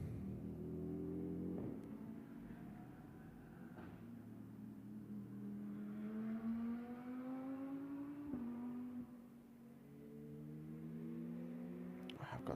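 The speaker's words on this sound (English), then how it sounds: "4-litre flat 6 in the back of the Porsche" A Porsche race car with a 4-litre flat-six engine mounted in the back, running in the Hockenheim GT endurance event, holds a steady engine note that rises and shifts through gear changes, loud and continuous with no talk.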